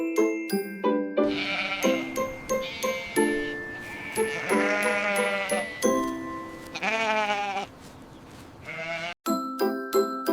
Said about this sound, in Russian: Овечка говорит бе.